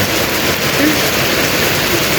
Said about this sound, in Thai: ฝนตกเลยเนาะ